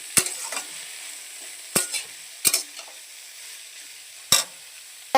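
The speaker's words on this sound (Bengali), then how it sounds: "বাঁধাকপিটা দিয়ে দিলাম একটু সুন্দর করে মেরে নেব" Cabbage seasoned with salt and turmeric is stirred in a frying pan, with a quiet sizzle under several sharp, scraping spatula strokes spaced a second or two apart and no talking.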